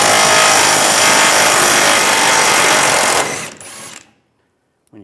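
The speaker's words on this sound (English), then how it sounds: "Take a 21mm socket, take this bolt out." An impact tool with a 21mm socket drives out a bolt on the center bumper of a 2007-2013 Chevrolet Silverado 1500, a loud, continuous close-up whirr for about three seconds that then cuts off abruptly into silence.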